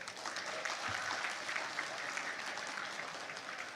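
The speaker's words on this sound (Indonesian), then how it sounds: "Untuk kali ini kita beri tepuk tangan untuk tim kebendaharaan kita." Steady applause from an audience at a political party gathering, filling the whole stretch at a moderate, even level with no pauses.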